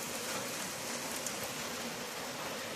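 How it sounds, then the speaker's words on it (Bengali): Heavy rain pours steadily outside, a dense, even hiss heard faintly from indoors with no voices over it. "আর এদিকে বাইরে তো পুরো ঝমঝমিয়ে বৃষ্টি চলে এসছে।"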